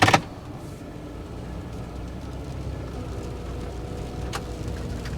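Van creeping slowly through deep mud on a slippery, snowy road, its engine a low steady rumble with faint sloshing throughout, after a brief louder knock at the start.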